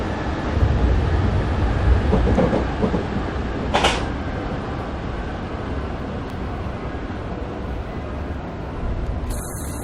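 A Class 455 electric train in a Dovetail Games simulator slows under braking, a steady broad rumble of wheels and motors with a brief clunk or squeal partway through and no talk.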